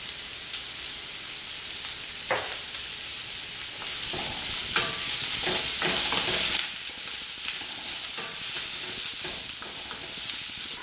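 Sliced zucchini sautés in a pan for a veggie frittata, a continuous soft sizzle broken by occasional scrapes and taps of stirring, close and fairly quiet, with no talking.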